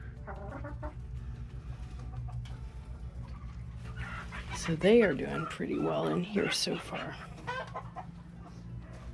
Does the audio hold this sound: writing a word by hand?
no